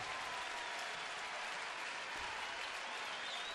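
A baseball stadium crowd applauds and cheers steadily and loudly throughout, a dense wash of clapping with no pause, during a 2013 Philadelphia at Cleveland game as the home pitcher works through an inning.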